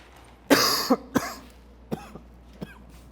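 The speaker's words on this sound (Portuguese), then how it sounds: "essa tosse tá demais" A person coughs several times, one harsh burst followed by shorter, weaker coughs spaced out, close and alone.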